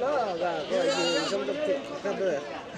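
Goats bleat repeatedly at a busy outdoor goat market, their wavering cries overlapping close by amid people talking.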